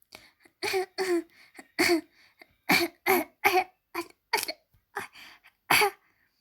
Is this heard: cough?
yes